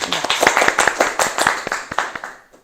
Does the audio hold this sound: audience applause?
yes